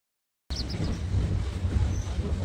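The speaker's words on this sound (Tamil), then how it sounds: "நம்ம சிட்டிக்கு நடுவில் கூடி நம்ம ட்ரெயின் போகுது." After a moment of silence, a steady rumbling toy train on rails, on the Ooty line near Coonoor, fades in with clattering wheels and a faint high squeal, loud and close.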